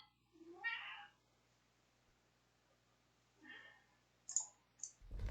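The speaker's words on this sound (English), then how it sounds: "distracted by my cat" A pet cat meows twice in a quiet room, a drawn-out cry near the start and a shorter one a few seconds later, followed by sharp clicks and a low thump at the very end.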